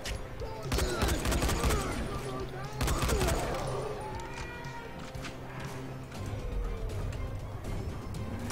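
Gunfire in the video game Dying Light crackles in rapid, dense bursts of sharp shots and volleys, loud and close, with someone talking over parts of it.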